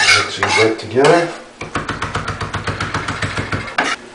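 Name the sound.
mixing chopped vegetables together in a bowl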